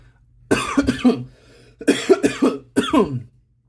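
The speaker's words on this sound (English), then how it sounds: "sorry, coughing too much." A person coughs in two harsh bursts of several hacking coughs each, close to the microphone, with a short pause between them.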